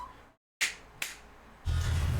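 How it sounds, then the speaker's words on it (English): Two crisp finger snaps ring out close and distinct about half a second apart, followed by a low background rumble. "I snapped too hard and now my fingies are fingied"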